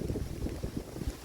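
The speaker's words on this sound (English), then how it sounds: "I know it's windy" Steady wind gusting and buffeting against a microphone outdoors, a low rumbling rush with no voices.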